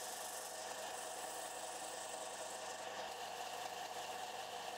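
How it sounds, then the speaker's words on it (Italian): An electric sander smooths a small wooden lipless fishing lure for trout fishing, giving a steady, close, unbroken whirring drone with a gritty edge and no pauses. "diamogli una aggiustata sulla levigatrice"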